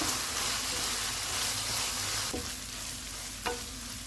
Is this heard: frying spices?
yes